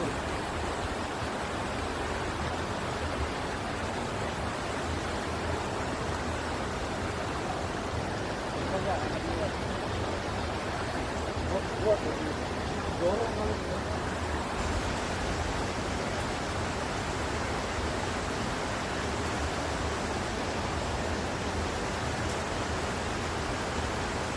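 Steady broadband rush of a river stream flowing beside a campsite area on a trekking route toward the Curug Dua Undak waterfall, continuous and fairly close, with a few faint voices in the background.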